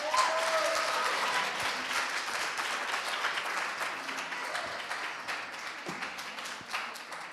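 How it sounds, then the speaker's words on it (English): An audience at a university three-minute thesis competition final claps after a talk, dense applause that starts strong and slowly thins out into scattered claps. "A round of applause for Deborah."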